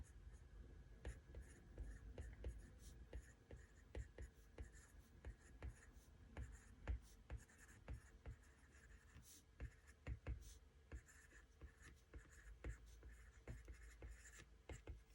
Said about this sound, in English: now I'm going to write here in my notes section that we took out prop money and replaced